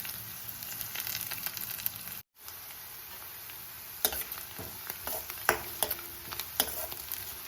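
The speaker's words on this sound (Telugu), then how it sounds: "ఆనియన్స్ పూర్తిగా వేగొద్దండి, సగం వరకు వేగితే సరిపోతుంది" Sliced onion and curry leaves fry in a pan for a brinjal curry, giving a steady, close sizzle. Stirring clatters through it, with a short gap near the start and sharper scrapes toward the end.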